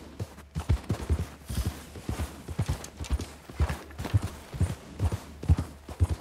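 Horse hooves clip-clop at a steady walking rhythm in Red Dead Redemption 2, close and distinct, a long run of regular paired hoofbeats with no talk over them.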